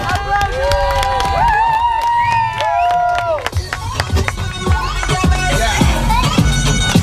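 Beach crowd at Filarakia, Kos, clapping and cheering after an aqua gym class, mixed with chatter and lively background music.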